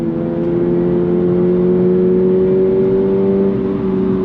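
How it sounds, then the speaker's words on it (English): A 2024 Subaru BRZ tS engine revs uphill in second gear, winding out in a loud, steady rising drone with strong harmonic tones climbing slowly in pitch, heard from inside the car. "On throttle, second gear, uphill. Let her just wind out."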